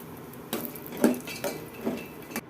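A spoon stirs makhana in ghee in a pan, giving a few soft metallic scrapes and clinks over faint background noise.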